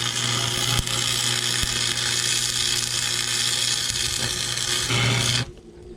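Welder burning a hole through metal on a jack gives a loud, steady, harsh buzzing crackle that runs for about five seconds before it cuts off abruptly, leaving quiet.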